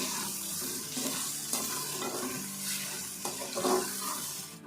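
Beef being fried in oil in a pot, a continuous close sizzle with stirring and scraping strokes throughout, no talking.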